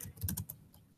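Quick burst of key presses on a computer keyboard while typing a terminal command, a close cluster of clicks that tapers off into a couple of lighter taps.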